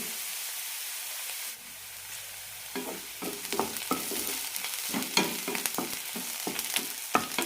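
Onion frying in a pan for ragi noodles, sizzling steadily while a utensil scrapes and stirs in irregular clacks, close and moderately loud with no talking.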